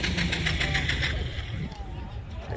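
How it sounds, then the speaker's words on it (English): A drift car engine turns over and sputters as someone tries to start it in cold weather at an outdoor car show, a rough, pulsing mechanical churn that fades after a couple of seconds. "Trying to start the drift car."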